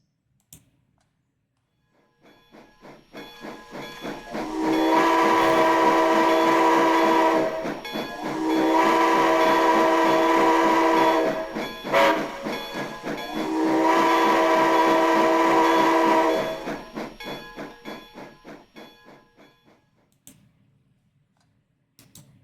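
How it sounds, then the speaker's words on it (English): The Thunderduck locomotive steam whistle in the railroad game Railroader sounds three long, loud, honking blasts with brief gaps, each swelling in and fading out, over a faint rhythmic train chuff and no talk. "this is the whistle that got the nickname Thunderduck"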